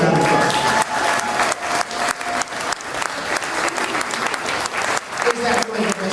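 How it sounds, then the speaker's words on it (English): An audience at a jazz hall of fame induction ceremony applauds the inductees, with loud, sustained clapping from a crowd and a voice or music faintly underneath. "So won't you please give all the inductees a big round of applause."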